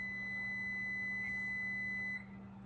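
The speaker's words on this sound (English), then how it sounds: "Don't mind the oven beeping." A steady, high electronic beep from an oven timer rings continuously over a low appliance hum, then cuts off.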